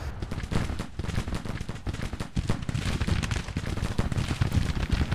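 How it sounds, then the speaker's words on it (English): Dense artillery and rifle fire from a Grand Tactician: The Civil War battle rolls on without pause: overlapping cracks, volleys and booms form a continuous, loud barrage. "Our artillery is hampering down on these soldiers."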